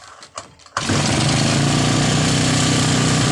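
A small engine fitted with a newly replaced carburetor, after its old one could not be cleaned, fires on the first pull after a few soft clicks and settles into a loud, steady, close running roar.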